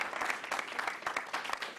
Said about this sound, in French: Acclamation pour notre invité qui nous rejoint à ce moment